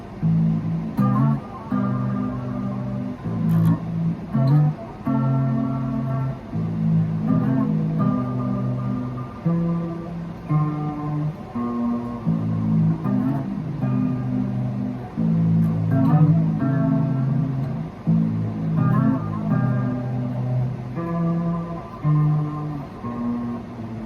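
A clean, undistorted electric guitar plays a steady riff, repeated plucked notes and chords, close and clear, with no voices.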